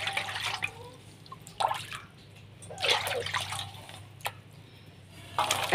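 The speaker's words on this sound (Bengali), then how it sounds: "এবার এখানে আমি জল নিয়ে নিলাম।" Water is poured into a vessel for washing kharkol stalks in a village kitchen, heard as several short splashy pours and drips in separate bursts, moderately close, with no talk.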